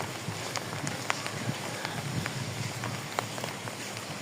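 Heavy downpour of rain, a dense continuous hiss with scattered sharper drop impacts throughout, steady and moderately loud, with no voices.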